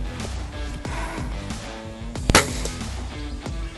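An Air Arms TX200 HC .177 underlever spring air rifle fires a single shot, a sharp, close crack with a short thump partway through, over steady background sound.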